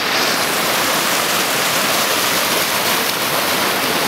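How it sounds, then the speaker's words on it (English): Rushing water of a mountain creek on a lookout trail, a loud, steady, broadband roar that carries unbroken throughout, close by and with no other sounds. "We're gonna cross over this creek. If you can hear me over the rushing water,"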